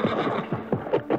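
A horse neighs nearby, a short series of rising and falling whinnying cries in quick succession, loud and close.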